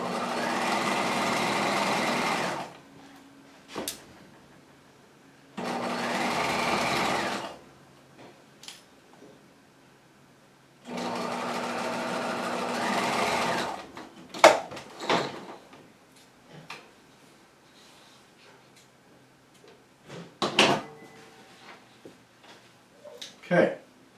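A sewing machine stitches set-in pockets in three bursts of steady whirring several seconds long, separated by quiet gaps, followed by scattered clicks and handling noises of fabric and the machine.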